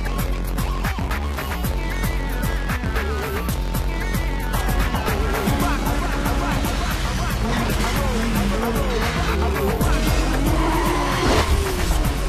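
A car in the Need for Speed Most Wanted racing game skids with squealing tires over a loud, constant engine roar, the game audio dense and continuous throughout.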